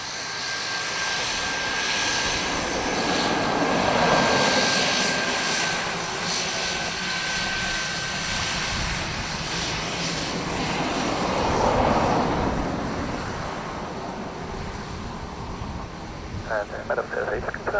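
Airliner engines roar steadily at Dublin Airport as an aircraft takes off from runway 10 right, a loud sustained rumble swelling and easing, with air traffic radio voices heard over it.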